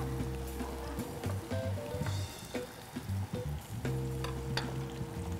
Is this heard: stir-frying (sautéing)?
yes